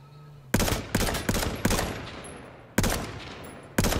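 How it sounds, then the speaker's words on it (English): Shotgun blasts in the video game H1Z1 ring out close and loud, six heavy shots at uneven intervals, each followed by a decaying echo, with no talking. "Shotgun"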